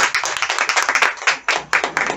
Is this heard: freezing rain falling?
no